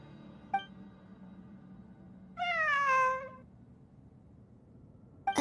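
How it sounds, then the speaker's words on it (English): A cat in the video game Genshin Impact gives a single drawn-out, clear meow lasting about a second, with soft ambient game sound and faint clicks around it. "A cat?"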